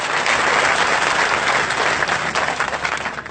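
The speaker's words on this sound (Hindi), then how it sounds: "एक बार पूरा सदन जोरदार तालियों से उन्हें आशीर्वाद दे।" A large crowd at a Hindi poetry gathering (kavi sammelan) applauds loudly and steadily, dense clapping filling the whole stretch before tapering slightly at the end.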